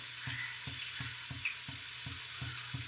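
Curry leaves and dried red chillies sizzle in hot oil, a steady hiss with a regular series of soft thumps, roughly every half second, running underneath, close and without speech.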